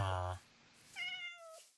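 A Minecraft cat gives a short meow in the video game, near and fairly faint, followed by a second higher meow.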